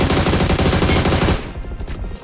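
Rapid automatic gunfire from PUBG Mobile rattles loud and close in a dense burst, then cuts off, leaving a few fainter shots trailing.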